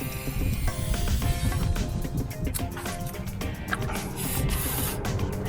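Lubricant sprays from an aerosol can onto the moving joints of an RV, a steady loud hiss lasting several seconds with faint rattling clicks, close to the microphone and without speech.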